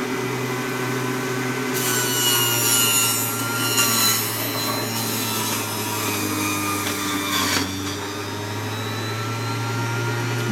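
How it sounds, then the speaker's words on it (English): Electric vegetable juicer motor whining steadily while a pepper rattles and scrapes around the sides of the chamber, a continuous grinding hum with irregular rubbing and clattering over it, close and fairly loud. "You can hear the rest of the pepper flip around the side."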